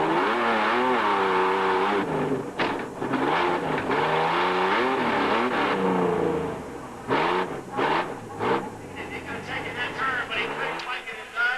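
Onboard audio from a monster truck on an Indianapolis dirt track: the engine revs up and down in repeated surging bursts, loud and close, with brief gaps between throttle blips.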